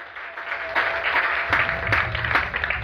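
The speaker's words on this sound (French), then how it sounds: "Je vous remercie, on applaudit pour vous-même." A crowd at a political campaign caravan in the Avéa quarter of Libreville, Gabon, applauds in a loose, continuous wave of clapping that swells slightly midway, with a faint steady tone and murmuring underneath.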